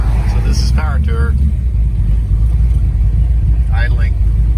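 Hot rod cars idle at the Hot Rod Power Tour event, a deep, steady engine rumble close by, with someone talking briefly over it.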